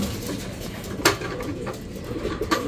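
Pigeons coo softly at a loft trap door over a steady hiss of background noise, with a couple of sharp clanks standing out.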